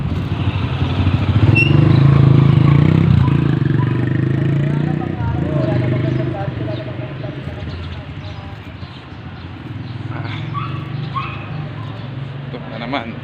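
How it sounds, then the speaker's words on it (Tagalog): Many motorcycles crowd around a senior high school at pickup time, their engines droning and clattering steadily in a busy mix, with voices underneath. "Daming motor oh. Sundo yan sa mga estudyante."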